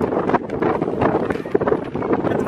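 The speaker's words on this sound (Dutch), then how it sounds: "Oh, het waait hier hard." Strong gusts of wind buffet a handheld microphone outdoors in a Dutch street near a tram, with loud uneven rumbling blasts, while a person talks briefly.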